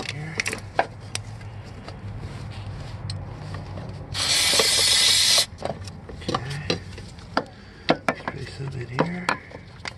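A can of contact cleaner sprays in one steady, loud hiss lasting about a second, surrounded by scattered clicks and knocks of parts being handled on a 1996 Jeep Grand Cherokee.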